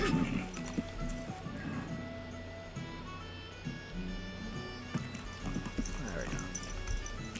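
Hooves clip-clop steadily on a horse in Kingdom Come: Deliverance, with whinnies and neighs near the end, under a game music bed and frequent close talking over it.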